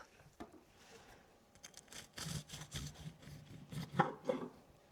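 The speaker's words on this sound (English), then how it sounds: "Grab my cutting board here so we can slice into this" A knife cuts through a freshly baked banana bread loaf on a cutting board, with soft scraping and crunchy slicing strokes that grow louder toward the end, close and fairly quiet, with no talk.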